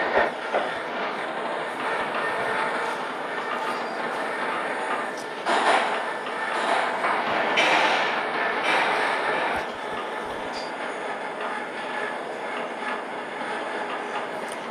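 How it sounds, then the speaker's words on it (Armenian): Metro train in Subtransit Drive accelerating toward 80, a continuous rumbling rail drone with clickety-clack wheel noise and occasional squeals, steady and close. "Գնացքն արդեն 46-ի տակ է, բայց մենք պետք է գնենք, ավելի ճիշտ ոչ թե գնանք, այլ պետք է սլանենք 80-ի տակ։ Դրա համար հիմա արագացնում ենք։"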